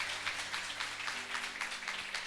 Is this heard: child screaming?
no